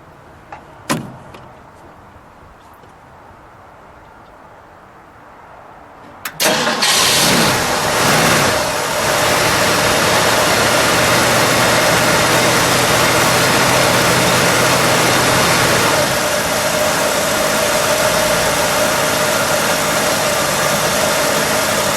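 A 1966 Ford Mustang convertible's 289 V8 cranks and catches at about six seconds, then settles into a loud, steady, close idle that runs to the end, after a few faint clicks and quiet movement beforehand.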